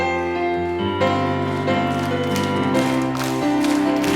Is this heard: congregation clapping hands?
yes